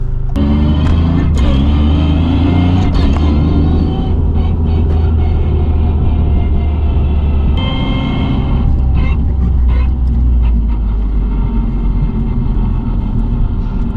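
A 330whp Toyota GR Yaris with no added soundproofing, its engine and exhaust droning steadily from inside the cabin while driving, loud and continuous with rumble and a few small clicks over it.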